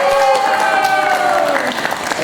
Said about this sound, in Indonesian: lengkap tepuk tangan